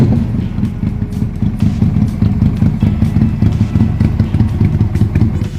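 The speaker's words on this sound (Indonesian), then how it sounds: "suara dari mesin V-twin yang keluar juga karakternya dapet banget" A Benda V252C 250cc V-twin cruiser fitted with an aftermarket exhaust idles close by, giving a steady, deep, pulsing burble with an even throbbing rhythm and no talking.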